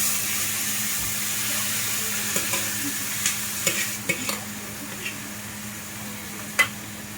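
Cooked goat liver added to a hot oiled pan, frying with a steady close sizzle and a few light scrapes and taps of stirring, no talking.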